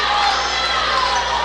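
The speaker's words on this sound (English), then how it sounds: "That's a big one, and the crowd loves it as Yurkus lays it in off the glass." A high school boys basketball crowd cheers loudly and continuously, a dense wall of shouting and applause filling the gym with no break.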